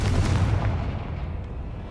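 A Confringo spell blasts open a barrier in Hogwarts Legacy, a loud, deep booming burst with a rumbling low end that fades gradually over about two seconds.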